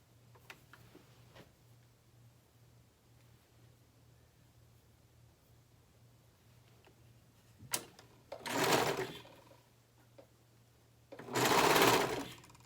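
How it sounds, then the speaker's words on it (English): Sewing machine stitching a shirt seam in two loud bursts of whirring, the first about a second long and the second longer, separated by quiet pauses with faint handling noises earlier. "We're going to sew it down a little ways."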